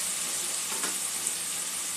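Cumin and Kashmiri red chili powder sautéing in a pan for a chicken meatball dish, a steady close sizzle and hiss with one brief louder crackle partway through.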